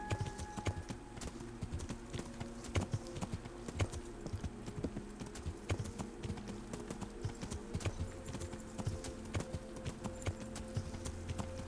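Horse hooves clip-clop in a steady rhythmic trot over a low droning background in the video game Kingdom Come: Deliverance.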